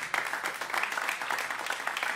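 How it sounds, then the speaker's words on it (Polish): An audience applauds after a jazz trio's performance at a concert, dense steady clapping heard from within the room at moderate volume, without pauses. "Duże brawa."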